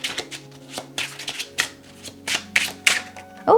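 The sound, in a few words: shuffling tarot cards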